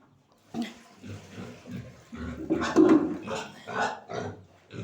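A pig grunting and snuffling while it eats, close by, in a series of irregular bursts, with someone talking to it over the sounds.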